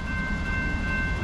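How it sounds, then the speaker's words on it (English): A Norfolk Southern freight train of 168 axles rolls through a gated crossing at about 48 mph on the Lehigh line, a steady loud rumble and wheel roar with a sustained high tonal ring from the crossing bell or horn. "Third train of the day, here it comes. Right through the gate, yeah, keep going, right through the gate."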